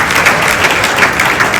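Audience applause at a company event, a dense burst of many hands clapping loudly and continuously for a moment, close and without voices.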